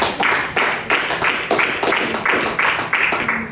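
A church congregation claps in unison during a Spanish-language sermon, loud rhythmic beats roughly twice per second, steady and close.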